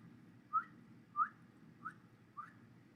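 A voice imitates the high, whistle-like slurp heard at coffee cuppings, making four short, thin whistling chirps at a steady pace, each quiet and close, over a low background hum.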